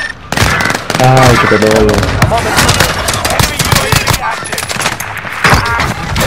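Bursts of rapid automatic gunfire crackle loudly in a shooter video game, mixed with shouted voices and chatter throughout.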